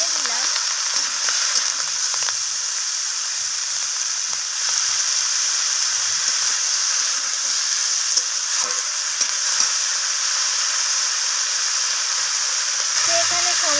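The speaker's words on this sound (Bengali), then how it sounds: "আমি একটু ভাজা করে নিচ্ছি" Vegetables sizzling steadily in hot oil in a pan for a spinach and cauliflower-stem curry, a constant close hiss with occasional stirring scrapes.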